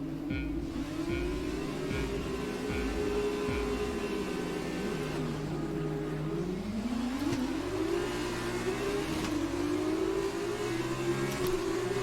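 Formula 2 cars at the start of a race at Silverstone in the F1 2020 video game, several engines droning and climbing in pitch together as the field launches, a steady loud roar throughout.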